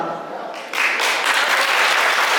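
A crowd bursts into steady applause that grows louder after a moment, with faint voices mixed into the clapping.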